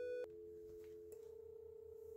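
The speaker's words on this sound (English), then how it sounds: "it will automatically pick up with dial tone and dial the other side and will ring." A Racal Vadic modem on speakerphone picks up a telephone line: a brief tone cuts to a steady dial tone, then a soft click as a new tone takes over and holds, all quiet and close.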